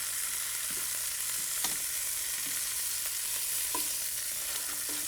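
Beef braciola searing in a hot pan, giving a constant loud sizzle and hiss with occasional light taps and scrapes of a utensil, close-up and without talking.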